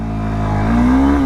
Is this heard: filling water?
no